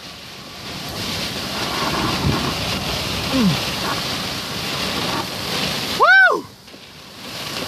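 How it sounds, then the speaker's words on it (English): Strong storm wind roars steadily into the microphone with rain during a hail-core chase near Hermosa, a continuous loud rushing blast, broken by a man's excited whoop. "I'm right now facing into the wind."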